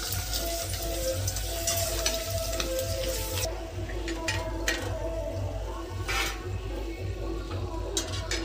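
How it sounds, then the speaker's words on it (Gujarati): Potato bhungla snacks fry in hot oil with a loud, steady sizzle that continues without a break, strongest over the first few seconds and easing slightly afterward, with no voices present. "આ ભૂંગળા હવે તળવા નાખી દી"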